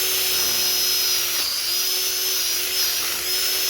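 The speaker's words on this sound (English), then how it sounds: "so I'll just take the drill" A power drill whines steadily while hollowing out the filled joint of a bamboo cane for a trellis, a loud, close, continuous high-pitched drone with slight wavering in pitch.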